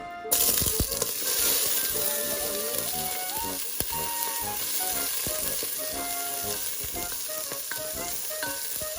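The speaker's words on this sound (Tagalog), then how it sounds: "I'm gonna put 2 tablespoons of oil. Then we stir fry the onions." Onions stir-fry in hot oil with a loud, continuous sizzle and crackle, close up, with occasional clinks of stirring and no talking.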